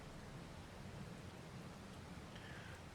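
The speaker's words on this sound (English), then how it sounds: "Well, it's pouring rain." Pouring rain in the Farming Simulator 22 farming game, a steady dense hiss that continues unbroken and evenly loud throughout, with no speech over it.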